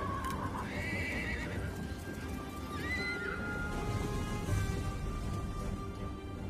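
Cavalry horses in the Total War: Three Kingdoms video game whinny twice, high rising neighs near the start and around three seconds, over a constant battlefield murmur and faint hoof clatter.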